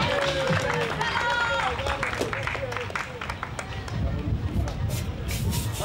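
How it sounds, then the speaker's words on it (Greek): Audience applause for the 1996 Tiger Rally winners, steady dense clapping from a crowd that runs the whole way through with a general hubbub, while a voice speaks over it. "Χειροκροτήστε λοιπόν τους σημερινούς νικητές του Tiger Rally."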